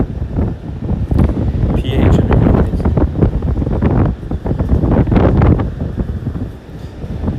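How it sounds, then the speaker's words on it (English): Strong gusts of wind buffet the microphone in a steady loud rumbling roar that swells and dips throughout, with no clear speech over it. "So much wind today"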